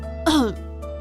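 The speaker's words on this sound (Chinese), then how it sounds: "胖胖丢下这个问题，继续边咳嗽边和大家一起玩。" A single short, voiced cough or throat-clear stands for a child's cough in a told story. It sounds performed by a voice rather than natural.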